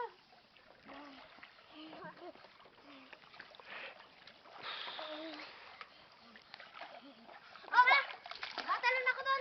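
A child jumps into shallow outdoor water with one sharp, loud splash near the end, after a stretch of family chatter and children's voices that continue over the splashing water.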